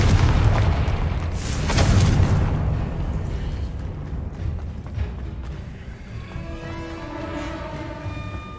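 Blasting spell explosion in the Hogwarts Legacy video game: a deep, loud booming rumble that swells, peaks around two seconds, then rolls off into a lingering low roar with faint tonal ringing at the end.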